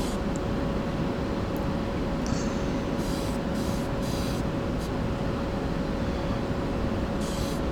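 Spray paint going on in light, even coats of white, a steady continuous hiss filling the whole stretch at moderate loudness, with no talking over it.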